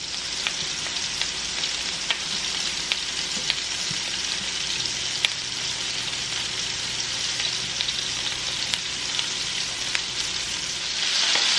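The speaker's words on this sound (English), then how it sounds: "We're going to let them just get coated in all of the butter and the oil. And we're going to let it just saute." Onions saute in butter and oil in a pan, a steady, close sizzle and crackle that runs unbroken with no talking.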